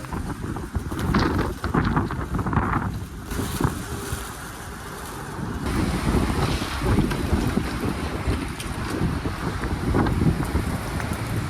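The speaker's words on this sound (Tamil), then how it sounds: "அமெரிக்காவின் டெக்சாஸ் மாகாணத்தில் புழுதி புயல் காரணமாக எல் பாசோ நகர மக்கள் பாதிப்புக்கு உள்ளாகினர்" Dust storm winds sweeping through El Paso, Texas: a loud, continuous roaring gust buffeting the microphone, surging and easing over several seconds with heavy low rumble and broad hiss, no voices.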